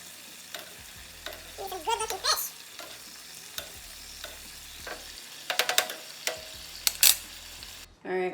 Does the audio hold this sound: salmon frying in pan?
yes